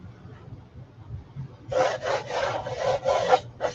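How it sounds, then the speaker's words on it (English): A sander lightly works the wooden sides of a Sunflower-pattern porch leaner sign, giving a close, steady rasping scrape in several short back-and-forth strokes after a quiet start. "going to give the sides a light sanding just to expose some of those"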